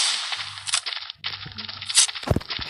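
Sharp gunshot cracks and bursts punctuate a busy game soundscape, with a low droning hum and clattering effects between the shots.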